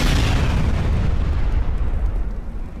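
Explosions go off in an animated Skibidi Toilet episode, a loud, continuous blast and rumble that slowly fades over a few seconds. There is no talking.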